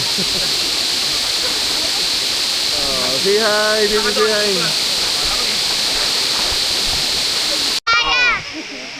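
Waterfall near Metro Manila roaring as a steady, loud wash of falling water, with an adult and someone talking briefly over the constant rush.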